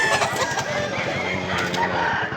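Gamefowl cluck and crow in a steady, busy chorus of repeated calls at a crowded fowl market, close and fairly loud, with little talk.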